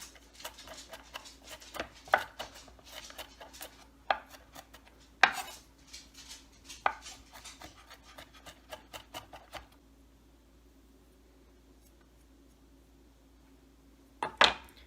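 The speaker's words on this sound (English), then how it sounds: "We're just gonna chop these up and then we'll get to the jalapeno." A knife chops onions on a cutting board with quick, uneven bursts of crisp taps for nearly ten seconds, then a quiet pause and a final couple of sharp knocks near the end.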